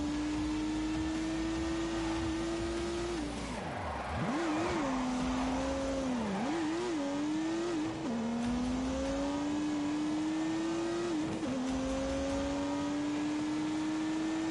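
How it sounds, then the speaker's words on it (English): A turbocharged 3-litre straight-six car engine in a racing game drones steadily, its pitch dipping and climbing through gear changes and revs before settling into a sustained, continuous tone. "unleashed 365 rampaging horsepowers from the turbocharged 3-litre straight 6"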